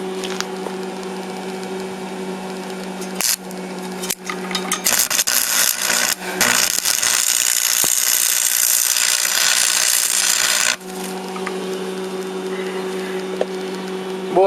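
Angle grinder stripping paint from a wheel rim outdoors, a harsh broadband grinding roar that starts in short bursts, then runs loud and steady for several seconds before dropping back to a lower idle whine.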